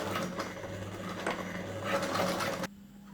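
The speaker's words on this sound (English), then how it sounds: "you're just going to sew that buckle onto the end of it." A sewing machine stitching a ladder lock buckle onto 25mm polypro webbing, a steady close mechanical whir running for a few seconds before stopping abruptly.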